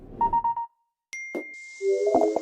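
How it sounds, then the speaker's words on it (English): A new macOS Big Sur system alert sound, remastered and refined: short clear chime tones ring out alone, with a few bright pings followed by a layered, tinkling ding near the end. "We've also created a new suite of sounds that are familiar to the Mac, but remastered and more refined."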